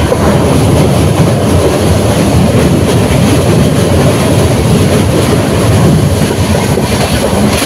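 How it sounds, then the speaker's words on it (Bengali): An Indian Railways train runs right along the Bangladesh border near Changrabandha station, a loud, continuous, close rumble of wheels and carriages with a dense roar and no voices. "একদম বর্ডারের গা ঘেঁষে ভারতীয় রেল চলে যাচ্ছে।"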